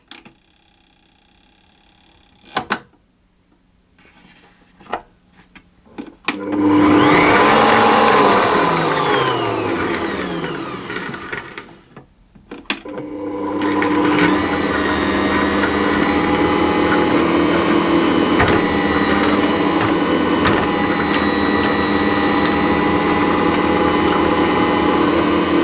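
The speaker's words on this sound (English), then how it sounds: "I'm going to put my yeast into that and my sugar, and I'm just going to mix that around to get those combined a little bit" Ankarsrum stand mixer whirring as it mixes yeast and sugar, a loud steady motor drone that starts after a few clicks, dips briefly, then runs on continuously.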